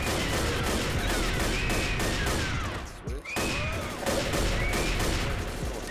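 Rapid bursts of gunfire in the video game Left 4 Dead, fired at a Witch, crackle in dense volleys with a brief pause midway, while players talk over the shooting.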